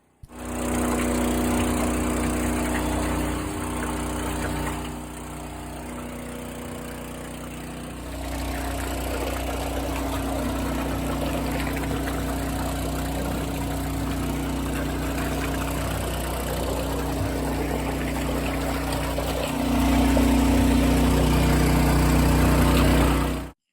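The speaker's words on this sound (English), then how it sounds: "The pump's been running for nearly 2 hours now" A pump runs steadily, circulating sugar solution in a tank to make bee feed, a loud continuous motor hum with a slight change in tone partway and a louder stretch near the end.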